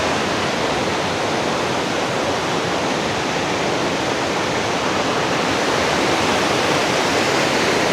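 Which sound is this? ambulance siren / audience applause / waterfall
waterfall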